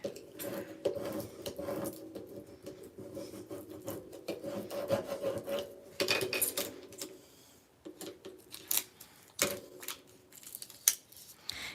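Transfer tape rubbed and pressed onto a Christmas concertina card, giving close, irregular scraping and rasping strokes in uneven bursts with brief pauses, no talk.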